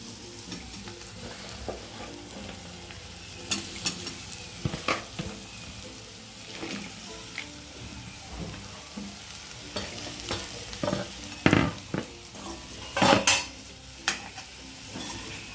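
Bell pepper stir-fried with tomato, onion, cumin, coriander powder and chutney in a pan: a soft sizzle runs beneath irregular scrapes and knocks of a spoon stirring against the metal, close up, with no talk.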